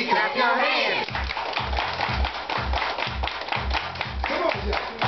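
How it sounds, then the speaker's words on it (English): A group claps hands in a steady, even rhythm at a Fourth of July gathering, loud and close, with a voice and music-like tones running underneath. "Everybody clap your hands."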